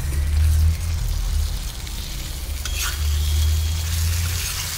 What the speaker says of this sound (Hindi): अब इस पे हम डालेंगे ये पनीर के डाइस